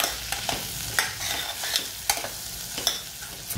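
Spices, salt, turmeric, coriander-cumin powder and red chilli powder being stirred into green sweet corn chevdo in a hot pan, with repeated scraping strokes over a steady soft sizzle, close and alone.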